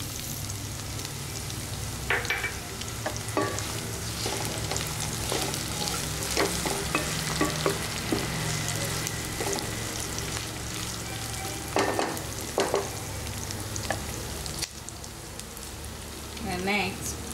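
Brinjal masala with curry leaves and seedless tamarind frying and being stirred in a pan: a steady close sizzle with repeated clicking spoon scrapes scattered throughout.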